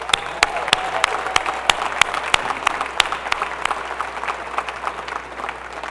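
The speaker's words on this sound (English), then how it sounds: "Please join me in a round of applause for their service to our great country." A university commencement audience applauds military veterans in a large hall: sustained crowd clapping with sharp individual claps standing out near the microphone, steady throughout and tapering slightly at the end.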